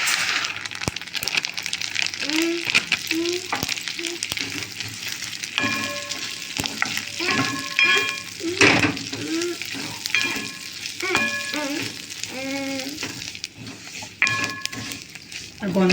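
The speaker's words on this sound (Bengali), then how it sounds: "এরপর আমি সিমইগুলো দিয়ে দেবো।" Raw, broken vermicelli fries and is stirred in a pan for a jaggery payesh, giving a steady sizzle with scraping stirs throughout while a voice talks softly at times.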